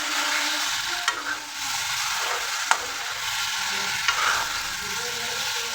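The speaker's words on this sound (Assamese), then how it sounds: "ইয়াত আদা নহৰু খুন্দি লোৱাখিনি দি দিলোঁ, অলপ সময় ভাজি ল'লোঁ" Crushed ginger and garlic frying with meat in a pan give a steady sizzle, broken by a few sharp clicks of a spoon stirring against the metal.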